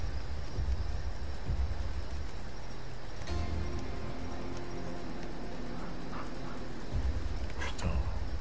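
A dog in the video game Assassin's Creed Odyssey on PS4 gives short whimpers and yips over a steady wash of game ambience, intermittent and mid-distance.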